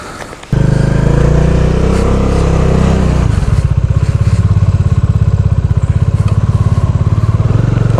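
A Bajaj Dominar 400 motorcycle starts up after a short quiet moment, then idles loudly and close by with a steady, throbbing single-cylinder beat that becomes more distinctly pulsed partway through.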